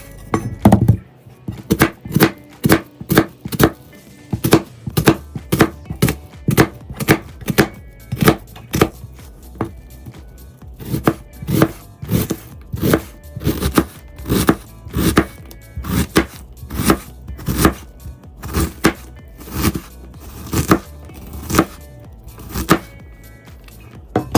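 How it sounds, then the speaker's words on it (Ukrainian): Rapid, steady knife finely chopping onion on a cutting board, many quick close taps in a continuous rhythm with brief pauses, no talking. "Цибулю теж нарізаю дрібно."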